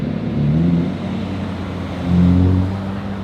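A white Ferrari SF90 supercar passes at night on a Zurich street, its engine a loud, steady drone that swells into a stronger rising roar around the two-second mark, with no talking.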